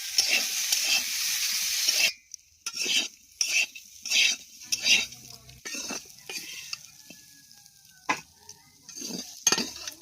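Potatoes and peas sizzle and fry in oil in a wok while a utensil stirs them, giving a steady hiss for two seconds followed by repeated scraping strokes and clinks that alternate with softer sizzling gaps.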